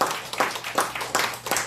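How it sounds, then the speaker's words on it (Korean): A church congregation applauds during a Sunday sermon, with short bursts of clapping repeating roughly every third of a second in a loose, rhythmic pattern, moderately loud in a reverberant hall. "박수해 주세요."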